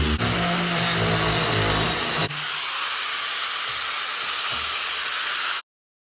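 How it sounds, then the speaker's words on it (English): A power tool cuts through a quarter-inch-thick piece of boat fiberglass on a dinghy build, a loud, steady high whine and hiss that drops in pitch partway through and then stops abruptly. "I'm just gonna cut this piece out right here, this piece of fiberglass."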